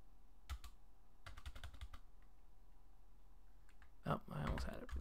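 Bursts of computer keyboard keystrokes as code is typed for an iPhone and iPad MapKit app, coming in short clustered runs separated by pauses, fairly close and moderately quiet, with a faint murmur of voice at the end.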